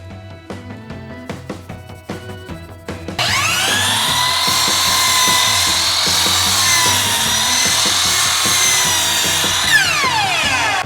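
Faint clicks and knocks give way to a loud, steady whirring as a lathe spins up, with wood being cut continuously before the motor winds down.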